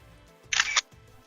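A single iPhone 12 camera shutter click, a short bright mechanical snap against quiet background.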